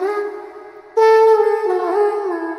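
A dark vocal chop drenched in reverb holds sustained sung notes that swell and shift pitch, loud and upfront with a washy tail.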